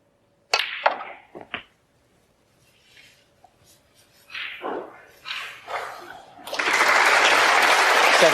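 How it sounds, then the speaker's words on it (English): A knowledgeable crowd at the 2018 Welsh Open snooker match between Ronnie O'Sullivan and Graeme Dott applauds frame ball. A few sharp knocks and low murmurs come first, then loud, sustained applause fills the last two seconds. "Yes, applause for frame ball."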